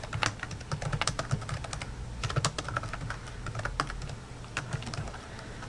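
Steady typing on a computer keyboard, with quick irregular key clicks close by and no talking.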